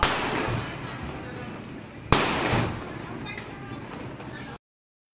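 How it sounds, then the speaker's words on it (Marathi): Firecrackers go off outdoors: one sharp bang is followed by a lingering, crackling rumble that slowly fades, with voices faintly mixed in. "त्यानंतर आम्ही गेलो फटाके फोडायला"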